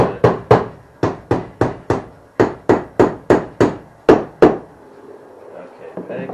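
Wooden pegs hammered into a cedar toy box panel, a quick run of about fifteen sharp, close, loud blows in steady bursts, then quiet.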